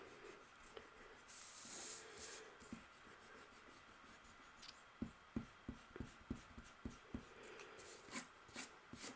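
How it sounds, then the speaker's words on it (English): An eraser rubbing over a pencil drawing on paper, quiet scrubbing strokes at first, then a quick run of short rhythmic back-and-forth rubs, close and without speech. "now I was thinking of just erasing here and then using"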